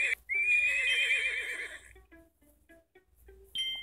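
A video game horse whinnies loudly with a shrill, wavering neigh that trails off, followed by a few soft clopping and clicking sounds.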